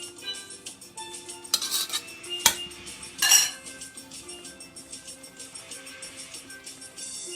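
Black-eyed pea cook-up ingredients are tossed in a pot, with clinks and scrapes of a utensil against metal and a few sharp knocks over a low background.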